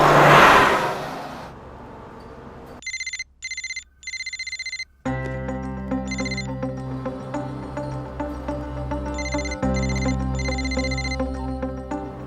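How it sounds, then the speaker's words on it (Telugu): A phone ringtone repeats in short bursts over a quiet pause and then keeps going under a steady music-like bed, ringing on and on without being answered in a comedy scene. "శ్రీకే ఫోన్ ఎత్తట్లేదు, రిప్లై ఇవ్వట్లేదు."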